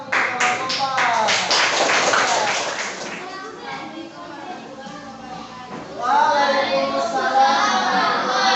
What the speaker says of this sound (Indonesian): Berikan tepuk tangan untuk kelompok 4